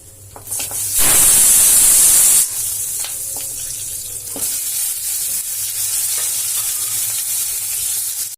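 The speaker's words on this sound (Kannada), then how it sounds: "ಈಗ ಇದನ್ನೇ ಒಗ್ಗರಣೆಗೆ ಹಾಕೋಣ" Onions and cut drumstick pieces hitting hot oil in a tempering for sambar give a loud burst of sizzling, then a steady crackling fry with stirring scrapes continuing to the end.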